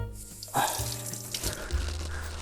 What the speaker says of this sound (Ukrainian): ніж помили холодною водою